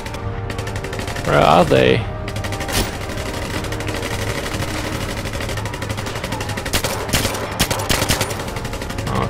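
Machine-gun fire rattles in James Bond 007 Legends, steady rapid shots with a few louder bursts, while someone talks over the shooting.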